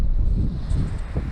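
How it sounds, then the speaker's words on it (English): Strong gusting wind on a cold early spring day at an outdoor dealer auction lot, buffeting the microphone with loud low rumbling in brief bursts. "Super windy day, early spring, cold as hell."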